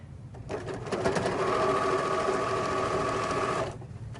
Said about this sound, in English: I'm going to go ahead and sew from the top to the bottom.